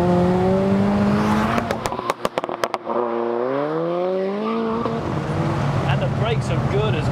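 A big-turbo MK5 Golf GTI with an R32-style BCX exhaust drones loudly nearby, its engine note rising and falling as it revs, with a few sharp pops midway and people talking over it.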